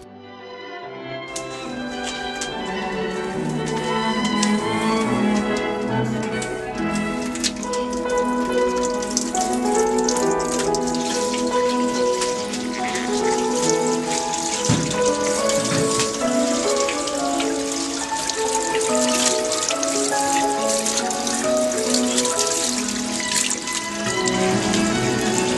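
Tap water running steadily into a kitchen sink as fish is washed, a continuous close splashing rush that starts abruptly and holds for the whole stretch.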